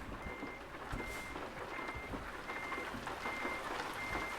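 Truck reversing beeps from Euro Truck Simulator 2 repeat in a steady rhythm over a low engine rumble while the truck backs slowly into a parking space, heard alone at moderate level.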